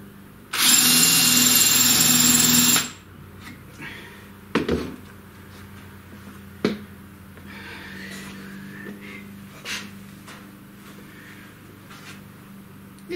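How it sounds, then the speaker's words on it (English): A power drill bores holes into a plate in a woodshop, a loud steady whine lasting about two seconds before stopping, followed by a few faint clicks and knocks of handling. "what I'm going to actually do is drill these holes oversize"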